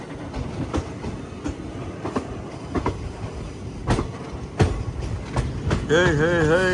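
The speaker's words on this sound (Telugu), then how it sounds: "అటు సైడ్ ఏదో వ్యాప్ 7 లోకోమోటివ్ తో ఉంది బండి" An Indian Railways train hauled by a WAP 7 electric locomotive passes close by with rhythmic clickety-clack from the wheels over the rail joints and a rising whine near the end. Faint talk sits underneath.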